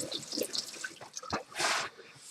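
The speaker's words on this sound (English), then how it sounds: "Now, I'm done with my knife. Wash that." A kitchen tap runs briefly while a knife is rinsed under it, with drips and splashes before a short, louder gush of water near the end.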